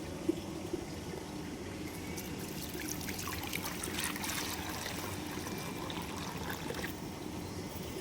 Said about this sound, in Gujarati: પાણી અંદર ભરી દઈએ એમના માટે.